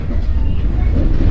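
Steady, loud rumbling of a long, nearly empty overnight passenger train running on the Mashhad line in Iran, a continuous low roar heard from close by without a break.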